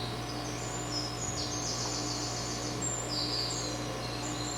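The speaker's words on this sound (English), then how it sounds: "There are trees, flowers, a bridge crossing a small lake, the sound of birds." Faint high chirps and trills from birds drift over a steady low hum, soft and distant with no voices.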